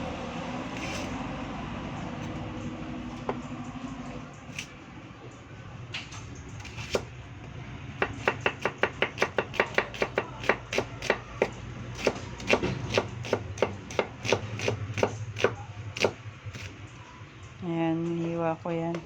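A knife slices onion on a cutting board for beef steak, a rapid run of crisp, evenly spaced chops up close, with a voice talking in the background.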